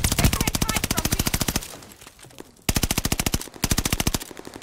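Automatic gunfire from Call of Duty: Vanguard, loud rapid bursts in two long strings separated by a short lull of quieter game ambience, with a voice talking faintly underneath.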